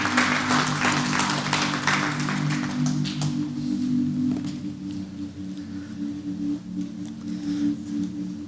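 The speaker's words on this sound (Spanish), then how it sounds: "Sí, damos un aplauso, Señor." A church congregation claps in a steady, continuous round of applause that fades slightly toward the end, with a low organ-like hum sustained underneath.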